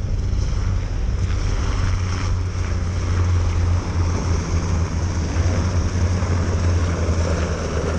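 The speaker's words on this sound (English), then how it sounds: "Look at these helicopters." Helicopters fly over the Virginia Beach oceanfront, a steady, loud droning rotor hum that runs throughout, blended with wind and surf noise.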